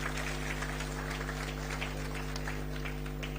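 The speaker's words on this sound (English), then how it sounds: "A hand of applause." Applause at a formal political gathering, a thin, fairly quiet spatter of clapping heard over a constant electrical hum throughout.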